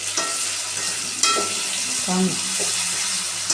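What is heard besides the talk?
bitter gourd roasting in sesame oil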